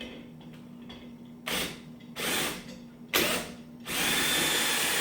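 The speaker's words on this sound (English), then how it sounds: "It's intended for a drill. It can be attached onto there." A power drill driving a mixing attachment for hard cider whirs in three short bursts, then runs steadily at the end, with quiet pauses between the first bursts.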